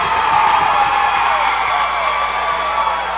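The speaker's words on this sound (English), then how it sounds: "that gets the crowd going" A crowd cheers and whoops in a gym during a Marion vs Inman basketball game, a loud, sustained roar that holds steady throughout.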